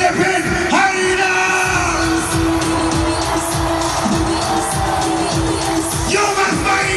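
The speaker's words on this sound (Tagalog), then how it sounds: "ibigay natin ang isang pagsalubong ng isang malakas na sigawan mula sa Philippine Harina!" A huge rally crowd at Philippine Arena roars with sustained shouting, cheering and whoops, a dense continuous wall of voices with a rising swell near the end.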